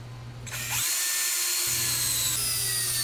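A brand-new wood lathe spins up on an intentionally off-balance silver maple crotch log. A loud motor whine rises in pitch, then holds steady and close for a few seconds.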